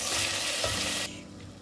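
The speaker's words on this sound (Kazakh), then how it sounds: "Осыны жақсылап қуырып аламыз." Meat for lagman frying and being stirred, a loud close sizzle with a scrape of the utensil, dropping abruptly to a quieter hiss for the last half-second.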